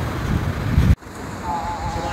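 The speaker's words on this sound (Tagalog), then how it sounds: "Feeling ko galit na galit yung dagat sa amin kasi grabe yung hampas ng balod." Strong sea waves pound a chilly beach with wind buffeting the microphone, a loud broadband roar that cuts off abruptly and resumes as a lower, steadier surf wash.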